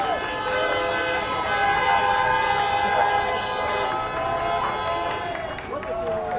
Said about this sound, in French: vous entendez les voitures qui klaxonnent, qui commencent à s'impatienter.